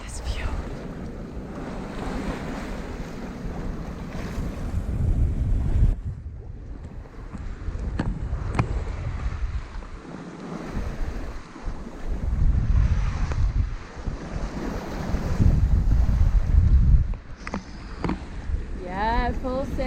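A sailboat under full sail heading out through a pass in French Polynesia, with no engine running, gives steady wind rumble on the microphone and sloshing waves against the hull throughout, loud and close, with brief voices now and then.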